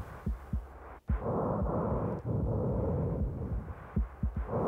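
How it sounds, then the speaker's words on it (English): A muffled, low heartbeat pulses in the Silent Hill 2 video game, thumping in irregular pairs over a dense, breathy internal drone with no voices. "You can hear the heartbeat."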